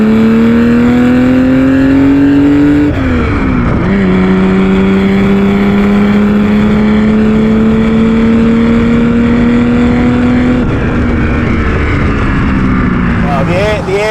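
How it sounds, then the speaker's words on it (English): A loud, droning air-cooled engine of a modified 1974 Porsche 911 holds a steady growling tone, dipping briefly as if shifting gears, then climbing again, continuous and close throughout. "There is no other car that sounds like an old Porsche."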